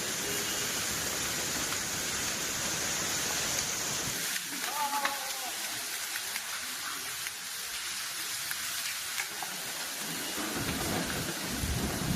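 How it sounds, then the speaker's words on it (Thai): Heavy rain pours steadily with gusting wind during a thunderstorm with hail in Thailand, a dense roar throughout with a brief lull near the middle; people talk faintly underneath. "ทั้งฝนทั้งลม"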